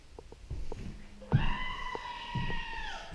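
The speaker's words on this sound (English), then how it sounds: "And yes, that's my phone screaming." A mobile phone rings loudly inside a new house under construction, its sustained shrill tone cutting in partway through over faint background knocks and room noise.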